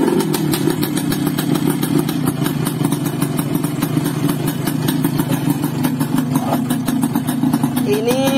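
Yamaha RX King two-stroke motorcycle engine, worn from overly extreme porting, running steadily at idle after starting, a loud continuous near putter with light rattling clatter throughout.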